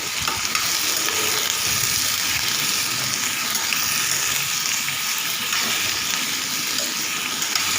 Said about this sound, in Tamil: இப்போ வெங்காயத்தை லைட்டாக வதக்கி விட்டு ஒரு மூணு மீடியம் சைஸ் வந்து தக்காளி எடுத்து வச்சுருக்கேன் அதையும் சேர்த்து நம்ம நல்லா வதக்கிக்கலாம்